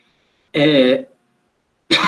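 A teacher coughs during a classroom astronomy lesson: one harsh, throaty burst, close and fairly loud, then silence, then the start of a second cough.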